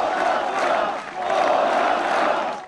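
A huge, friendly crowd in Poland cheers for the president, a dense, sustained roar of many voices with a brief dip about a third of the way through before swelling again.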